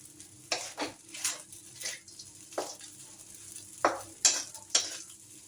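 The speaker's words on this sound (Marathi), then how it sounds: "छान मिक्स करून घेऊ आपण आता" A spoon stirs sabudana khichdi in a pan, scraping and sizzling softly in several separate strokes over a faint low hum, close and quiet, with no talking.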